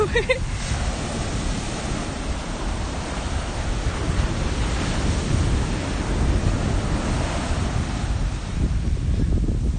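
Steady ocean surf and wind roar at the shore, a dense continuous wash of breaking waves with wind buffeting the microphone, loud and unbroken throughout.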